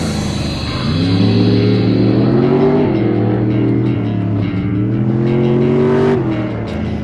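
A race car roars close by on a track, its engine droning loudly with steady harmonics that rise and shift as it drifts past, one sustained pass without talk.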